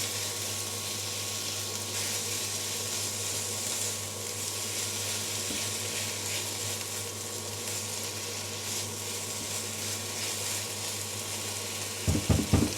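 Ground turkey seasoned with Italian seasoning frying in a pan for a homemade pasta sauce, giving a steady, moderate sizzle throughout, with a few clattering knocks at the very end.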